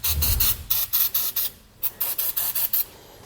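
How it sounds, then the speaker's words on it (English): Penetrating oil sprayed in about a dozen short hissing bursts onto the axle bolts of a Dexter trailer axle with electric brakes, close up, with no talking. "I'm also going to grab some penetrating oil and just hit these bolts here to help break them loose"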